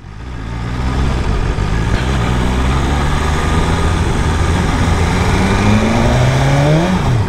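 A BMW S1000RR sport motorcycle on the road holds a loud, steady engine roar that climbs in pitch as it revs and accelerates, with no talking.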